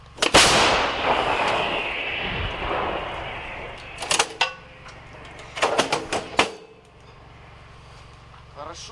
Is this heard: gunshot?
yes